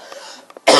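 A single sharp, loud cough bursts out close by at the end, after a moment of quiet breathy sounds.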